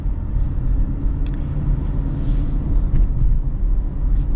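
Steady low road rumble and engine drone inside a 2025 Subaru Outback Limited while it drives, continuous and fairly loud with no talking.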